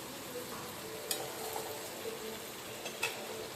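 Egg curry masala frying in oil in a pan, with a steady, fairly soft sizzle and a few faint ticks and clicks of utensils, no voices.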